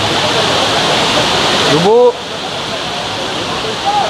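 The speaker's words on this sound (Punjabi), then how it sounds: "ਮੁਝੇ ਸਾਊਂਡ ਸੁਣੋ ਮੀਂਹ ਦੀ ਕਿੰਨਾ ਤੇਜ਼ ਆ" Heavy rain pours during a storm on the Vaishno Devi pilgrimage route: a dense, loud, steady hiss fills the clip, with a brief voice cutting in partway through.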